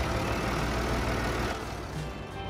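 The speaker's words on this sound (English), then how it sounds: "Love that engine sound." A steady, low engine drone from a tractor-type vehicle in the Farming Simulator video game, running continuously at close range with no talk over it and easing slightly in level near the end.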